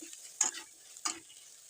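A turmeric spice paste being sautéed for a village-style magur fish curry, heard as two distinct scraping strokes of a spoon across the pan over a faint, quiet sizzle.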